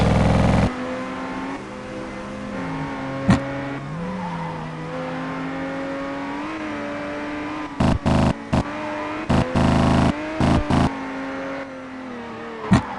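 Race car engine in the Assoluto racing video game, a steady loud drone rising and falling with revs, broken near the end by several sharp bursts of shifting or backfire crackle.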